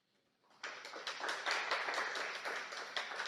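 A live audience at a women's conference session in Costa Rica breaks into applause, rising suddenly from near silence into dense, steady clapping from many hands that carries on to the end.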